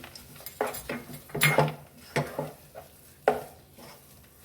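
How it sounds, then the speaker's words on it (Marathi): A spoon works through carrot halwa in a pan, giving soft scraping and stirring strokes in irregular bursts, close and moderately quiet, with no one talking. "छान एकजीव करून घेऊया याला"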